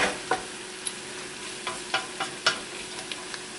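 Flour browns in hot fat in a pan, a soft steady sizzle punctuated by scattered clicks and scrapes of a utensil stirring.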